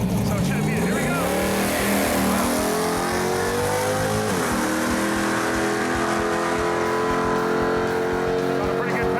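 A 1980 Chevy El Camino makes a drag racing pass, its engine loud and close as it accelerates hard, the pitch climbing through the gears with a shift about midway, then holding a sustained roar.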